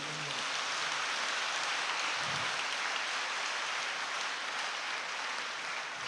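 Applause from an audience at a Catholic church gathering, a steady, dense wash of clapping that holds evenly from start to finish with no voices over it.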